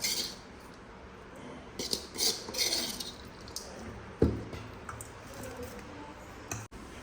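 A spoon mixing lemon rice in a metal vessel, with scattered close clinks and scrapes in short clusters, then one sharper knock after a quiet pause.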